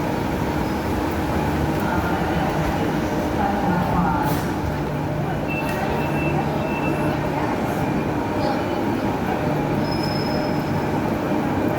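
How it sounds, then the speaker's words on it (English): A new Perth C-series electric train at the station gives a steady rumble with faint wheel squeal and brief tonal whines, close by and continuous. "I definitely like the look of the new C-series trains."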